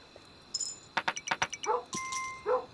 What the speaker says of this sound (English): Hear him barking.